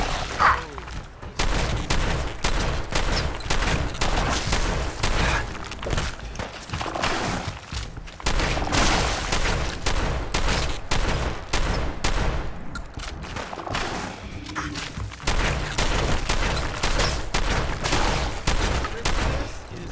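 Rapid bursts of gunfire at a Mirelurk in Fallout 4, dense loud shots in clusters with brief pauses, close and continuous across the fight.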